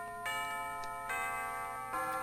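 A school bell rings in the Mega Man Battle Network video game, with three bright, tonal chime strikes spaced evenly about a second apart, each ringing out and fading under a faint background hum.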